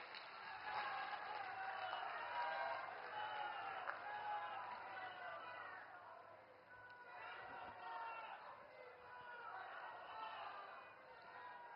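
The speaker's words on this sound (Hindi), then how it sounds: "आइए तालियों की गूंज के साथ उनके विशेष संबोधन के लिए आमंत्रित करते हैं" Sustained audience applause and cheering at a large public rally welcoming the Prime Minister after inauguration of development projects, a steady crowd roar lasting throughout with slight swells, fairly loud and continuous.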